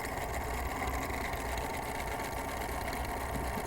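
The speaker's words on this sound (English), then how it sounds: "Now you are going to see this very definitely because I'm doing this satin stitch" A sewing machine runs a satin stitch with the wrong presser foot, a continuous fast mechanical whirring and clatter held at an even level throughout, with no talk over it.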